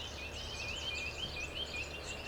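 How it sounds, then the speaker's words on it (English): A Nashville Warbler sings outdoors at Blue Hole, giving a faint, distant series of repeated high chips over steady wind and ambient noise. "Nashville Warbler again."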